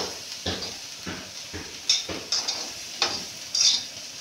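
Sweet corn fries in a pan with a faint sizzle, punctuated by half a dozen light clinks and scrapes of a spoon stirring against the metal.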